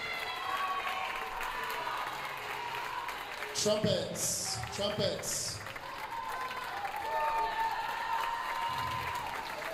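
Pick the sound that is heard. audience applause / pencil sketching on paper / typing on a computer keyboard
audience applause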